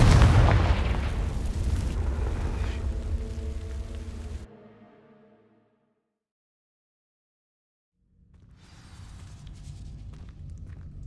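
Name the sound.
Confringo spell explosion burning dry vines, Hogwarts Legacy video game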